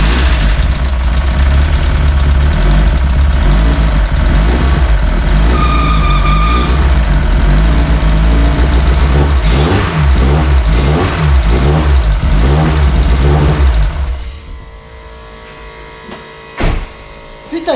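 A tuned VW Golf 2 16s engine cranks, catches and revs repeatedly at close range, loud and rough, then cuts off into near quiet with a brief knock near the end.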